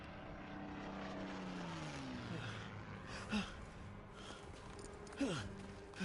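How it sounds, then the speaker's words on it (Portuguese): Propeller aircraft from the Death Stranding video game drone overhead at low volume, their pitch sliding downward as they pass, with a couple of soft thumps and a faint voice underneath. "Os aviões."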